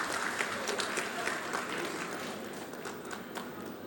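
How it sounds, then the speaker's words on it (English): An audience gives sustained applause at a ceremony at a badminton academy. Dense, even clapping from a crowd runs throughout and eases slightly toward the end. "Kindly, a big round of applause,"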